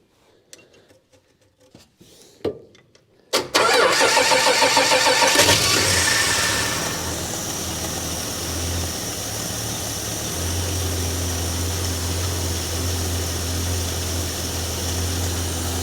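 A Hemi engine in an International truck, a few clicks and brief cranking, then it catches and roars loudly before settling into a steady close idle, with no talking.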